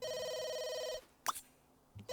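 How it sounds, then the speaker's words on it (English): An electronic cell phone ringtone in the life-simulation game The Sims 3 rings steadily for about a second, then stops, followed by a few brief game interface sounds. "your cell phone is ringing"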